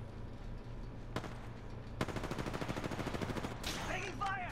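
Automatic weapon fire from the Apex Legends video game, a rapid steady burst of shots over a low background hum, followed by sharper whooshing effects near the end.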